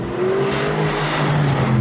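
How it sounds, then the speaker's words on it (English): An Aston Martin DB12 S's AMG-sourced 4-litre twin-turbo V8 with optional titanium exhaust drones steadily up close, its pitch rising slightly as the car accelerates, loud and continuous. "there's a tweaked sound character from the AMG-sourced 4-litre twin-turbocharged V8"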